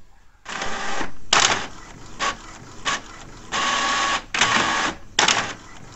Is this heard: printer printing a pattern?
yes